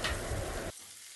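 Sliced onion frying with ground ginger-garlic paste until reddish-brown, a dense close sizzle that carries for under a second and then cuts off abruptly, leaving quiet.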